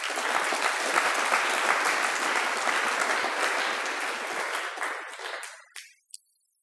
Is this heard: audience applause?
yes